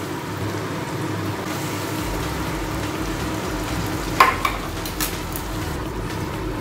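Onions fry in a pan with ginger, garlic and green chili paste, giving a soft, even sizzle throughout, with a brief clink of a utensil against the pan partway through.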